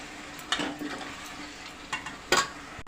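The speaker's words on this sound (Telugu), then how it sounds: "ఇందులోకి వేసేసి ఒకసారి బాగా కలిపేసేసి," Raw prawns are stirred into a tamarind-leaf curry in a pan. A few close spoon scrapes and clinks against the pan stand out over a soft, steady background hiss.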